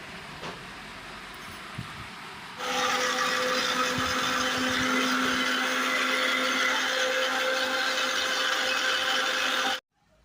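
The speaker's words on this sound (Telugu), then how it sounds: "పచ్చి కొబ్బరి ముక్కలు మిక్సీ పట్టుకోవాలి. చాలా మెత్తగా అయ్యే వరకు మిక్సీ పట్టాలి." An electric mixer grinds raw coconut pieces with water, starting abruptly after a quiet moment. It runs as a loud, steady whirring roar for about seven seconds, then cuts off sharply.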